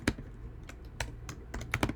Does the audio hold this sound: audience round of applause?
no